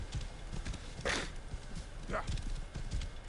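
Horse hooves clip-clopping at a gallop in Assassin's Creed Origins, a steady rhythmic beat under game ambience with a brief whinny-like call near the middle.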